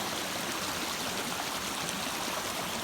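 Creek water flowing in the rain on a country property, a steady, even rushing and babbling stream, moderately close and continuous with no voices.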